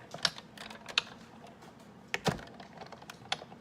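A Big Shot die-cutting machine running paper through, faint clicks and ratcheting knocks at irregular intervals with one sharper clunk, heard alone at low level.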